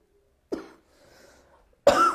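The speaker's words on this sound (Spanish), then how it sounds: "me agarro la tos" Two coughs separated by a short quiet pause, the second harsher and longer, close to the listener with no talking.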